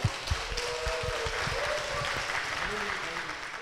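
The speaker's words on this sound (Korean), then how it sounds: "박수로 모시겠습니다" A church gathering applauds to welcome a guest to the front, with steady clapping filling the whole stretch and voices talking over it.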